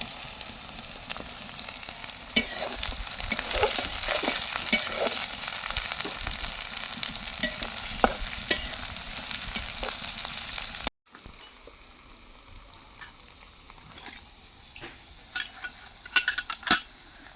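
Tomatoes hit hot mustard oil with cinnamon, cardamom, cloves and bay leaf, sizzling steadily while a utensil stirs and clinks against the pan, then the frying drops to a quieter simmer with occasional scrapes.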